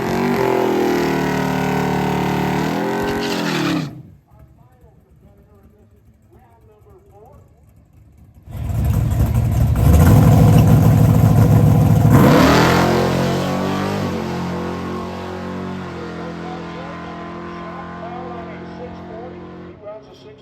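A bracket drag race car makes a solo bye run: a loud engine roar cuts off into near silence for a few seconds, then a powerful roar returns, swells, and slowly fades as the car pulls away.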